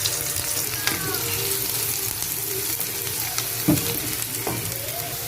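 Garlic and onion sauté in a pan with pork and chicken, a loud continuous sizzle and crackle of frying close by, with occasional scrapes and stirs of a utensil and no talk.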